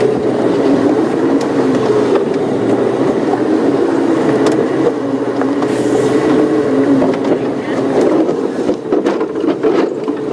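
A safari vehicle drives along a bush track with a steady, loud rumbling engine and rattling body, continuous throughout with occasional knocks and creaks.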